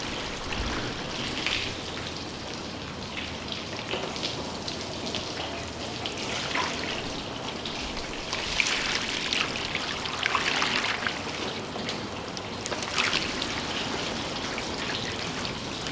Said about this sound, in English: So I'm running the hose over the entire hood